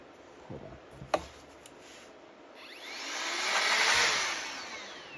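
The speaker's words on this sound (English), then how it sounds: "Rechargeable air blower." A rechargeable air blower whirs up in a rising, then falling whine, loud and close, after a few brief clicks and taps while sculpting a Rocky Horror Frankenfurter bust.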